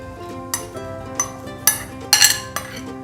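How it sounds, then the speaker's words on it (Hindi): Baby corn being stirred into spiced oil for a pickle, with a spoon clinking and scraping against a metal pot in irregular taps, several sharper clanks among softer scrapes, close up over a low steady background. "अब सबसे पहले हम लोग ये बेबी कॉर्न इसमें मिला लेते हैं।"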